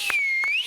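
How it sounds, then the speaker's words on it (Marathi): A sharp, sustained whistle sweeps down and back up in pitch across nearly the whole moment, piercing above scattered bursts of talk and crowd noise in a lively comedy show setting, cheering a dance performance. "तुझ्यासाठी परत एकदा शिट्टी"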